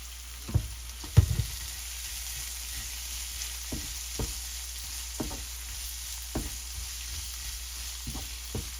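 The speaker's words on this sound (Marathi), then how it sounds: "आता याच्यात आपण जे मॅरिनेट केलेले प्रॉन्स होते ते टाकून घ्यायचे, फ्राय करून घ्यायचे" Marinated prawns frying in masala and oil in a pan, heard as a faint, steady low sizzle broken by occasional sharp knocks and clatters, with no voices.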